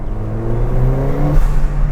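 A Ford Fiesta ST with an aftermarket induction kit drives under load, its engine note a deep droning hum with rising harmonic tones as revs climb, loud and close inside the cabin.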